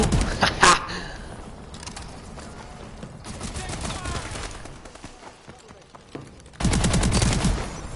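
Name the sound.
fully automatic gun firing in a shooter video game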